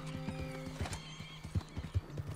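A horse trots in Red Dead Redemption 2, its hooves giving a steady, close clip-clop rhythm, with a brief whinny and a low droning background tone. No one speaks.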